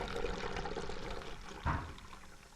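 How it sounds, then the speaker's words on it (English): Fresh sugar cane juice pours into gallon jugs as a short, soft liquid trickle with one brief louder splash near the end. "Go ahead and fill up my gallon jugs."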